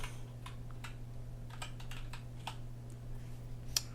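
Rapid, uneven typing on a computer keyboard to run a search in the Nemo file manager on Linux Mint, soft close key clicks with brief pauses over a low steady hum.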